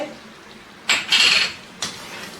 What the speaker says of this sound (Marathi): खीर व्यवस्थित मिक्स करून घ्यायची आहे